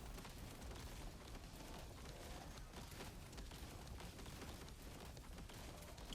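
Fire explosions keep going off around the player in the video game Grind Survivors, making a dense, loud, continuous roar of crackling bursts and booms with no pauses.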